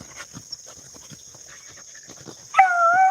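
Beagle hounds running a rabbit through tall grass: soft rustling and scattered light knocks, then one drawn-out, wavering bay near the end, with a steady high whine underneath throughout.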